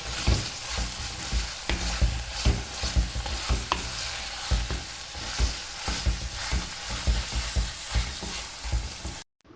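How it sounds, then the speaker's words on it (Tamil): Chicken sautéing in a pan with coriander leaves scattered over it, shallots, dried red chillies and sesame oil, giving a steady sizzle with frequent soft scraping and stirring knocks, close, no speech. "கொஞ்சம் கொத்தமல்லி தழை தூவிட்டு அதையும் நல்லா வதக்கி விட்டு இறக்கிடலாம்"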